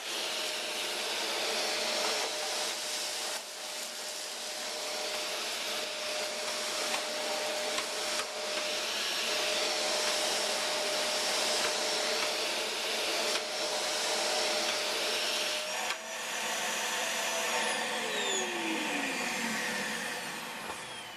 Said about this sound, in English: Let's see how well the vacuum performs when getting up tight against the baseboards